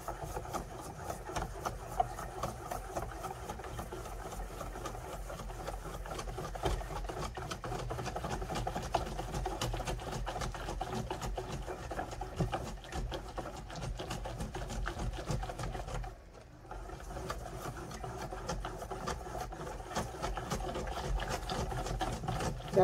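Electric whisk mixing bean batter for moin moin, a continuous motor whir with a steady rhythmic churning, close and moderately loud, briefly pausing near the end, no talk.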